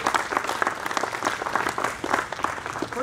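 An audience applauds the project manager at a ribbon cutting for a 90,000 square foot expansion, with steady, dense clapping from many hands that holds at an even level throughout.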